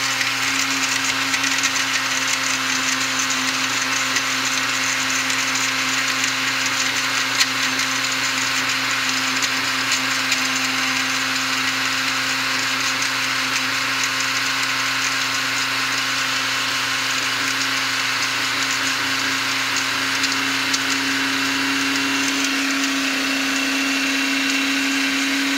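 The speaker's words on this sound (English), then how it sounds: "we're gonna put a blender and mash. And we're gonna blend it for over 1 minute." Blender whirs continuously while blending iced coffee for a cold-brew drink, a steady loud motor whine with a constant hum that drops slightly in pitch near the end, alone without talk.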